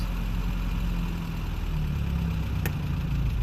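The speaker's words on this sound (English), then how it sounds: "So if you listen to the engine, it's full advance" A steady, low engine idle from a 1948 Peugeot 202 with ignition at full advance, an even mechanical rumble, close by, and one brief sharp tick partway through.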